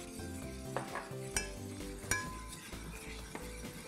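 A sauce of sugar with vinegar or lemon juice simmers in a pan while a utensil stirs it, giving steady scrapes and light metallic clinks over a soft bubbling hiss.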